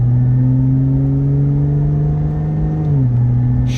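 A 2017 Lotus Evora 400 with an automatic gearbox drones steadily from inside the cabin, then the engine note drops smoothly as it shifts up a gear near the end.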